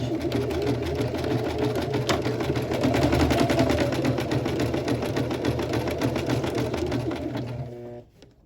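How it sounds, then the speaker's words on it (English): A sewing machine runs steadily for about eight seconds, stitching yellow fabric onto a shirt yoke, its motor whirring continuously with a rapid needle rhythm before stopping abruptly at the end. "I'm stitching on the yellow on the actual yoke, not on the front panels or the back panels."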